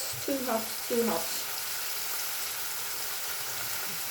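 Steady broadband sizzle of lemon fish frying in a pan, with a couple of brief voiced sounds near the start.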